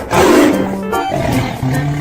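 A tiger roars loudly and close, in a rough growling burst followed by rumbling, with nothing else heard.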